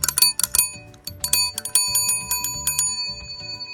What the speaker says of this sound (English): This is another classic bell.